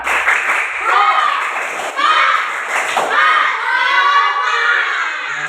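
Schoolchildren in a sixth-grade science class perform a rhythmic clapping chant, loud and close, with bursts of claps and shouted voices repeating in a steady pattern across the room.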